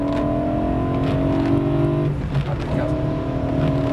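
A BMW M3 E92 engine revs up to about 5000 rpm, a loud, close, rising whine that cuts out briefly, then surges again with strong, steady tone.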